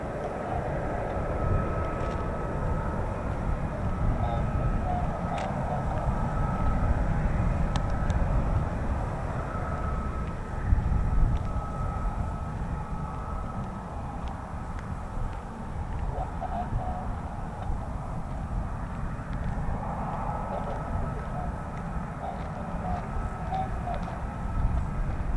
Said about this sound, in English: So I can see one F-35 on the move.